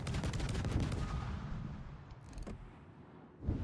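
Naval guns of the San Diego firing HE shells in a warship game, a heavy rolling barrage of booming shots with a rumbling tail and a sharper report near the end.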